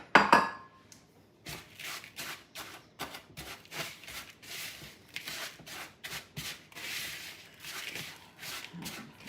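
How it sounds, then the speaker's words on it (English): Oreo crumbs and melted butter are stirred and pressed into a pie plate, giving a steady run of soft scraping, rubbing taps against the dish in an irregular rhythm, close and fairly quiet with no talk. "I'm going to mix these together and press them into my pie plate."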